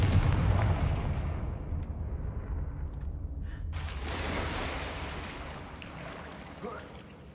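A Confringo blasting spell in Hogwarts Legacy bursts with a loud, booming explosion that rumbles and fades over several seconds, alone with no talk.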